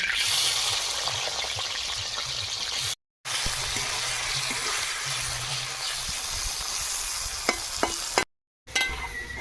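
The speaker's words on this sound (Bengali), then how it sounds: "আলু ভেজে নেব" Potatoes frying in oil in a pan, giving a continuous close sizzle with occasional stirring scrapes and two short breaks.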